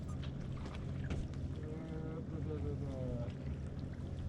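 A sailboat motoring under engine power through Cordero Channel, giving a steady low engine drone with layered harmonic hum, mixed with wind and water noise, continuous and moderately close.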